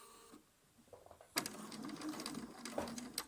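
A sewing machine stitching quilt pieces for a Drunkard's Path block starts after a quiet pause, running in a close, busy whir with rapid mechanical clatter and a few short bursts.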